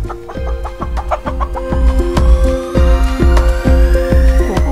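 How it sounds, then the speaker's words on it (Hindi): A rooster up in a tree clucks in a quick, repeated series of loud, close calls, the sharp bursts coming in a steady rhythm with no talking. "अभी देखो मुर्गा ऊपर पेड़ के ऊपर खेल रहा"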